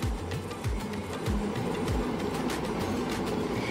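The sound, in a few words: toy train running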